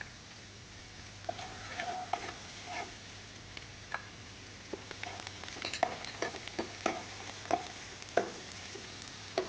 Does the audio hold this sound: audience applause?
no